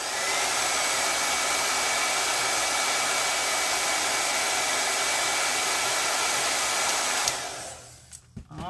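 A hair dryer blows steadily on chalk paste over an Easter bunny bucket, a loud even whoosh that runs alone for about seven seconds and then cuts off, followed by faint handling clicks.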